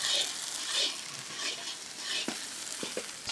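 Ginger garlic paste sizzles and fries in hot oil in a pan as turmeric and chili powder are stirred in, a soft continuous crackle with scraping stir sounds and small clicks, close and moderately quiet, no talking.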